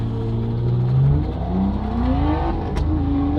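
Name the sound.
drift car engine revving with turbo lag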